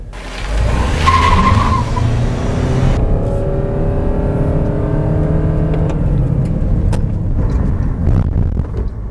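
Toyota Innova Zenix G hybrid accelerating hard in power drive mode, a loud rising engine and road roar heard from inside the cabin, swelling steadily with gear-like shifts in pitch, no talking.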